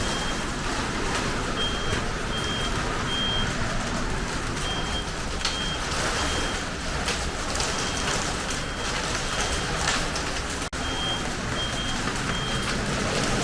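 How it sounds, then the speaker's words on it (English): Short electronic beeps from a boat's bilge alarm repeat in evenly spaced bursts, fairly faint beneath a heavy wash of storm rain and wind noise. "The alarms are going off in the bilge."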